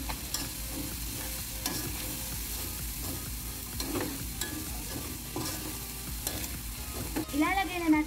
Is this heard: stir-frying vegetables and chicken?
yes